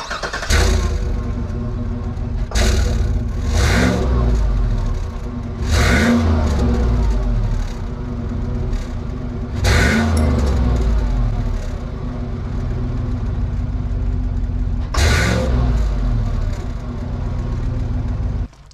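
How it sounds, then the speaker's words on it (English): A Yukon Denali V8 with its muffler removed runs loud and raw, with deep rumbling idle broken by about five sharp throttle revs that rise and fall. "I'm gonna start it up, see what it sounds like without that muffler on there."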